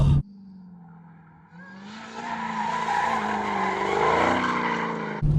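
A supercharged Dodge Demon engine revs hard, its loud near roar climbing steadily in pitch as it winds up toward the red line for several seconds.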